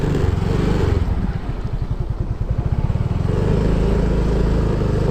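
A motorcycle ridden along a mountain road toward Cebu City near Catmon, its engine throbbing loudly and steadily close by, with a pulsing putter in the middle as the revs shift.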